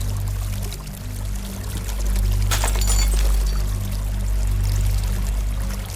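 Water flows and fills in the horror game Silent Walls, a brief pouring gush swelling midway over a constant low, rumbling ambient drone, with no voices.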